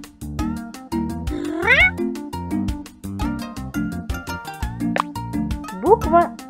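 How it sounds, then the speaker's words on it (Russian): An animated cat in a children's Russian alphabet cartoon meows twice over a bouncy musical backing, with short rising cries standing out above the steady plucked accompaniment. "Кошка."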